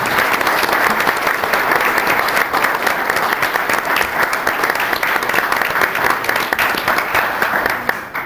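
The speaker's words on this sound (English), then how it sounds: "Join me, if you would, in a round of applause for these employees." Steady round of applause at a city council meeting, a roomful of people clapping loudly and evenly for city employees for the full stretch, with no voices above it.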